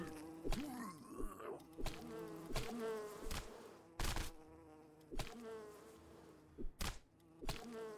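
Buzzing flying creatures in the video game Pale Coins drone continuously with wavering pitch, punctuated by repeated sharp hits and clicks from gameplay, fairly close with no talking.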